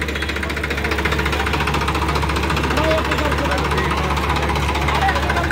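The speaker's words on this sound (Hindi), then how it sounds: "हाँ देख लो आवाज़ ट्रैक्टर की, सुपर सीडर है मगर ये।" A tractor fitted with a super seeder implement runs at a farm fair, its engine knocking and vibrating in a loud, steady drone with crowd voices in the background.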